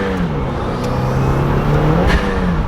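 Subaru WRX engine running with the front bumper removed, a steady close drone with rising and falling revs throughout, loud and continuous, no speech.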